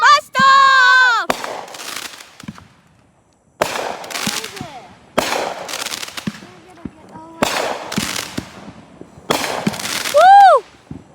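Fourth of July fireworks: several loud crackling bursts and whistling rockets in bunches with short quiet gaps between them, close by, while people cheer and talk over them.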